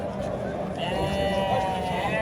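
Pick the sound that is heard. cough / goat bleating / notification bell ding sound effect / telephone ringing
goat bleating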